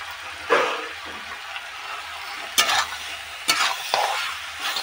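Vegetable curry with bean seeds and turmeric sautéing in a pan under a faint sizzle, broken by a few sharp scraping stir strokes spaced about a second apart.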